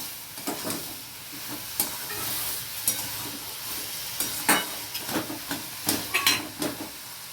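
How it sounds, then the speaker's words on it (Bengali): Spiced banana stem curry (thor ghonto) fries in a pan while being stirred, a soft sizzle broken by irregular scraping strokes and clinks of the spoon, close and moderately loud, no talking. "এবার এটাকে আমি কষে নিচ্ছি।"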